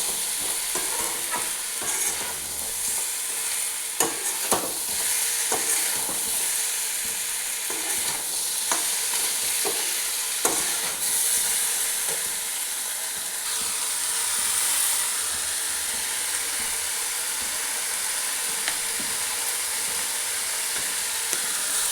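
Mutton with spice masala and mustard oil frying in a pan, a constant hissing sizzle with intermittent scraping and clinking of a spoon as it is stirred, steady and close throughout with no voices.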